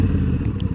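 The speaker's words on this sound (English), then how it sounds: "there's the goosing of that throttle you got to watch." A 2024 adventure motorcycle, such as a Honda Africa Twin DCT, has its throttle briefly goosed while braking, producing a close, low, rumbling engine burble with slight pulses, heard alone.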